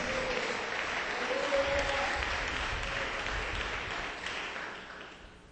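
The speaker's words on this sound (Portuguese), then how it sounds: "Dá uma salva de palmas para Jesus, Cenáculo." A church congregation applauds throughout a Pentecostal-style worship service, a steady dense wash of clapping that holds loud and then eases off toward the end, with faint voices beneath.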